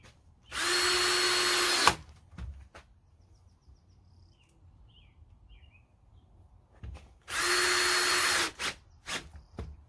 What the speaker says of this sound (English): now we'll go ahead and put these last couple of screws in